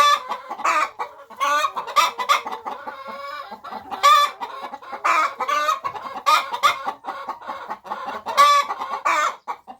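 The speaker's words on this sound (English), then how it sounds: "hens can be very loud while laying eggs" Free-range hens on a farm cluck loudly while laying eggs, with repeated sharp, excited cackles in irregular bursts, close and clear against a quiet background.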